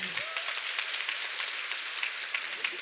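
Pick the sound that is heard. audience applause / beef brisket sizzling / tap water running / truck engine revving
audience applause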